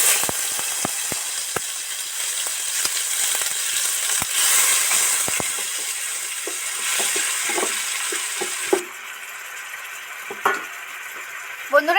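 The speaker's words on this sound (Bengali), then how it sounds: "ভালো করে ব্যাটারটা তৈরি করছি সুন্দর করে মশলাগুলো একসাথে মিলেমিশে নিচ্ছি" A spoon stirring and working a masoor dal batter mixed with spices in a bowl, giving steady scraping and clinking strokes over a constant background hiss, with a few sharper knocks near the end.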